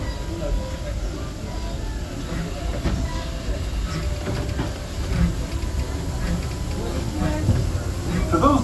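The Disneyland Railroad train rolls along at Disneyland, giving a steady low rumble with a rhythmic clickety-clack of wheels on track and a faint hiss, while voices in the passenger cars talk over it throughout.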